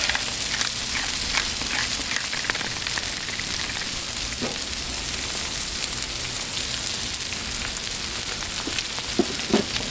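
Eggs frying on a Blackstone griddle give a steady, dense, close sizzle that holds evenly throughout, with no talk over it.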